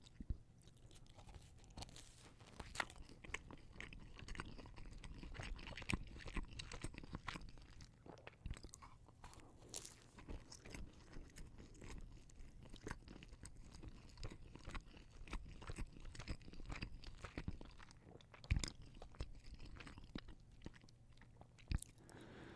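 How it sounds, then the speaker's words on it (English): Crunchy Dunkin' Donuts bagel bites are chewed close to the microphone, with repeated crisp bites and steady crunching and mastication throughout, quiet and intimate with no talking. "It might have a little bit of a crunchy kind of snap to it, but not like crunchy."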